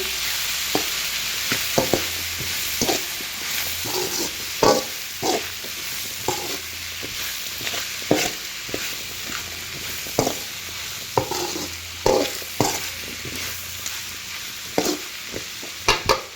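Ivy gourd curry frying in a pan as chilli powder is stirred in: a continuous bright sizzle with regular scraping spoon strokes every second or so, close and fairly loud, no voices.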